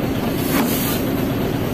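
The maxi air brake on a trailer truck is released, giving a steady, moderately close hiss of escaping air that swells slightly early on and then holds level.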